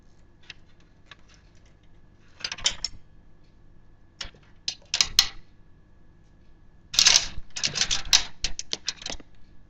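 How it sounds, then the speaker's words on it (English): A plastic zip tie is ratcheted around a computer connector inside a small home office PC case, giving bursts of close, sharp clicking and zipping, with a longer dense run near the end. "Let's make sure I get the zip tie the right way."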